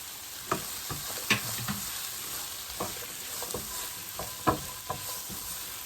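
Onion frying in a pan with mushrooms about to go in, a steady soft sizzle broken by intermittent stirring scrapes and clicks, fairly quiet and close, with no talking.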